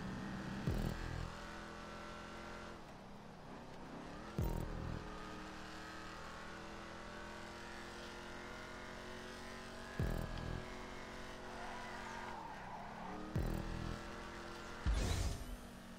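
Race cars in a GTA race, with a steady engine drone and sharp revving shifts at irregular intervals, sounding close and continuous throughout.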